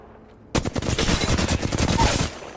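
Rapid automatic gunfire in the Apex Legends video game, a sudden dense burst of shots starting after a brief quiet moment and continuing loudly and steadily for about two seconds before easing off.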